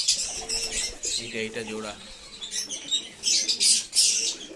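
Pigeons at a night feeding coo and flap their wings in short, close bursts, with someone talking among them.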